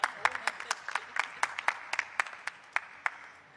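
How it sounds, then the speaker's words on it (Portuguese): Scattered audience clapping at a COP30 event in Brazil, a thin, uneven patter of separate claps rather than full applause, with crowd murmur underneath. "Ó, palma e vaia."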